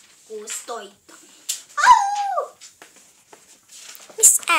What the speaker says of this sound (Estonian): Ma usun, et see on hunt.